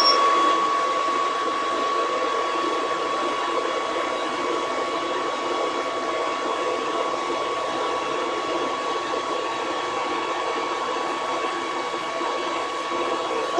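A small fan whirs steadily at close range, a constant airy hum with a faint high whine that never changes.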